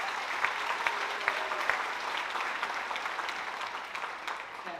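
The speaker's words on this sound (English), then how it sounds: "So clap it up for Daniel." Audience at a high school awards night clapping for a student: a steady, dense round of applause from a crowd, sustained and even, with no talk over it.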